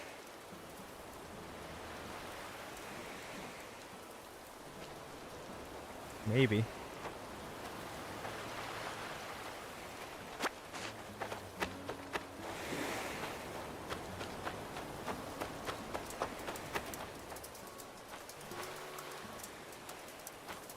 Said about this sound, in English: You can hear the rain ticking off of the top of the roof.